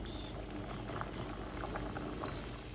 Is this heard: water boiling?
yes